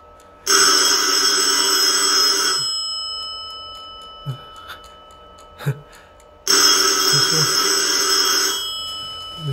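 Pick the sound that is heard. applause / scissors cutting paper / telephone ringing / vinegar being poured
telephone ringing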